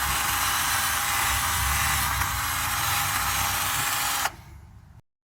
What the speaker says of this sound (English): I'm just going to give this a quick clean up like this. Just take some of the rust off.